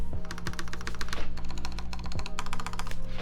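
Fast typing on a 60% mechanical keyboard fitted with brand-new keycaps, rendered as bursts of crisp, close keystrokes in an uneven rhythm, with a few heavier key thumps in between.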